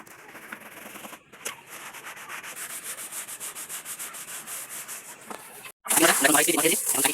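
Steady rubbing and scrubbing inside a household water tank, rhythmic back-and-forth strokes close by, a brief pause, then a louder, harsher burst of scrubbing.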